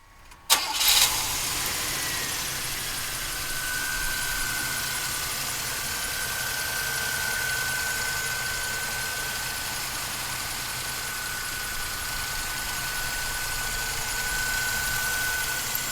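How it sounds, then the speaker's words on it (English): A 1987 Cadillac Brougham's engine cranks and catches with a sharp burst, then settles into a steady, even idle that runs on without interruption, with no voices. "raise the hood, fire up the motor"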